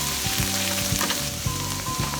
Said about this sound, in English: Add the green onions and saute for another 30 seconds